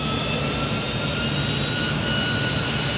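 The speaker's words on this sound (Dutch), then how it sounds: "Nou, we gaan zo proefdraaien." Aircraft jet engine test run on an open platform outside a maintenance hangar, a loud, steady roar with a high whine, heard continuously with no voices.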